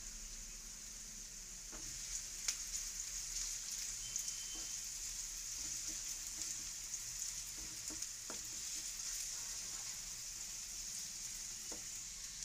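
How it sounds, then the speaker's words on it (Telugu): Cumin, onions and green chillies fry in hot oil, giving a steady, close hiss of sizzling with faint crackles and occasional stirring scrapes throughout, with no voices. "ఆయిల్ హీట్ అయిన తర్వాత 1 స్పూన్ జీలకర్ర, 1 కప్ ఆనియన్స్, గ్రీన్ చిల్లీస్ వేసుకుని ఫ్రై చేసుకోవాలి"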